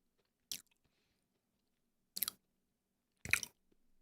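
Crunchy chocolate Rice Krispies snack chewed in three short, close, crisp bites separated by near silence.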